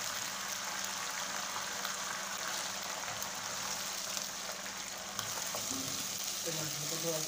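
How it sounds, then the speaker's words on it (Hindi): Tomatoes frying in a pan after ginger-garlic paste, a steady hiss of sizzling oil throughout with a few light scraping stirs near the end. "टमाटर को थोड़ा सा भूनेंगे"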